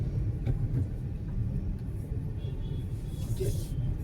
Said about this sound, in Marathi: त्याच्या दुप्पट तिप्पट ट्रॅफिक आज झालेलं आहे